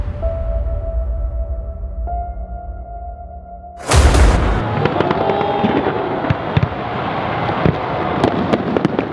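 Riverfire fireworks bursting over the Brisbane River at night, a loud sudden blast followed by continuous crackling and popping explosions that stay dense and close.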